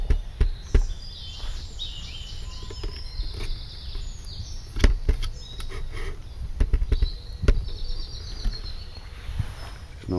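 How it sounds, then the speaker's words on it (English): Birds chirp and call in woodland during a fire pit build, scattered tweets rising over faint rustling and occasional bumps, fairly soft and moderately distant, with no talk. "It's nice to hear a bit of that bird song as well, isn't it?"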